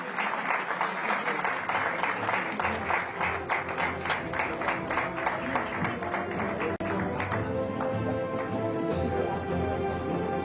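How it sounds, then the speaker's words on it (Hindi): An audience at the Viksit Bharat 2047 event with India's Vice-President Jagdeep Dhankhar breaks into loud, dense applause that holds steady for the full stretch. "एक बार जोरदार तालियां।"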